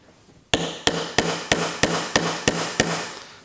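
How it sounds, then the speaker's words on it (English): Eight evenly spaced, ringing metallic hammer blows driving a pin into the compound of a LeBlond lathe, loud and close with short decays between strikes. "I'm just going to take a hammer here"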